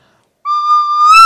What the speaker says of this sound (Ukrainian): Якщо дмухнути в сапілку трошечки сильніше, то звук підвищиться на октаву.